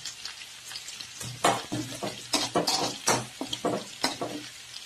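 Broken wheat upma with curry leaves frying and being stirred in a pan, a crackling sizzle broken by repeated close scraping strokes of a spoon against the pan, with no talking.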